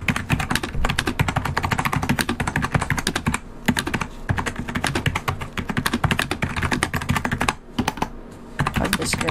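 A Perixx PX-3200 computer keyboard with UK layout is typed on in a fast, continuous clatter of keystrokes during a typing test, close and steady with only brief pauses.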